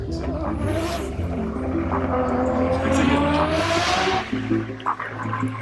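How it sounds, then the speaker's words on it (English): A Mazda RX-8 with a turbocharged Renesis rotary engine is driven hard, its loud, buzzing engine note rising steadily in pitch through a gear before dropping back, close and sustained. "Ripping up some shreds with his RX-8"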